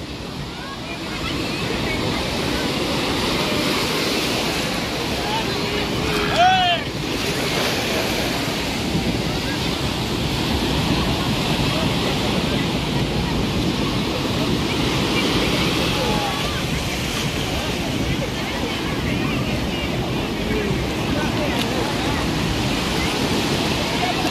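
Steady broadband wash of sea surf on Puri beach, continuous and fairly loud, with wind buffeting the microphone and faint crowd voices of many bathers mixed in.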